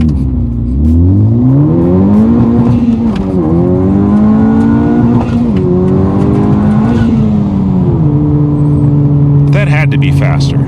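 Honda Civic Type R accelerating hard on an open road test run, engine note climbing loudly through several gear changes with brief dips between shifts, close and continuous throughout.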